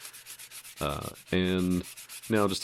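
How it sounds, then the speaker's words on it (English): Hand sanding a cheap steel hammer head being set up for jewelry work: short bursts of scratchy abrasive rubbing, close and fairly loud, with brief pauses between strokes and a few words spoken at the start. "you can't really get around a little bit of hand sanding"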